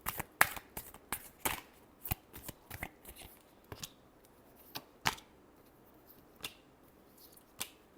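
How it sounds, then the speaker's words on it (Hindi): Tarot cards being shuffled during a reading, faint sharp card snaps and soft riffles scattered irregularly, with quiet gaps between them. "last shuffle"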